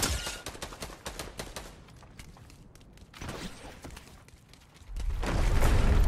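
Fortnite gunfire in a series of sharp, rapid shots in the opening seconds, then a quieter lull before a louder, sustained burst of fire and impacts near the end.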